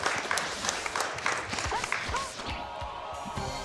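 Clapping and cheering from the audience at AGDQ 2018, a charity speedrun marathon, rise in a dense burst and then taper off, with speech mixed in.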